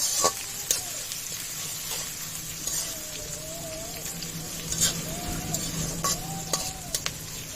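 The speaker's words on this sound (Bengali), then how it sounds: "তেলটা ভালোভাবে গরম হয়ে গেছে, এখন দিয়ে দিব পেঁয়াজ কুচি। পেঁয়াজটা ভালো করে ভেজে নেব।" Chopped onion sizzling in hot oil in a pan, a steady low frying hiss with faint scattered ticks and occasional soft utensil sounds, heard close with no talk.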